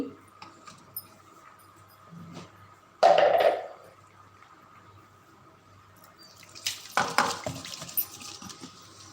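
Water splashes as a bowl that held dough for Khandeshi dubuk vade is rinsed, with a sharp burst early on and a longer stretch of running, clattering washing later, in a quiet kitchen.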